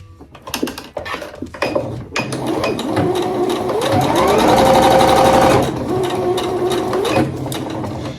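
A sewing machine stitching elastic onto a fabric wolf mask, loud and close, starting with a few short bursts of stitching, then a long continuous whirring run before it slows and stops.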